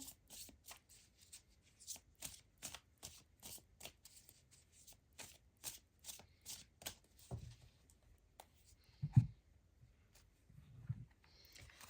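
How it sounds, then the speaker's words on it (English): Tarot cards being shuffled by hand in quick, evenly spaced riffling bursts, close and soft, followed by a few quieter handling sounds and one heavier thump near the end, with no talking. "let's get some clarifying tarot cards on here for you."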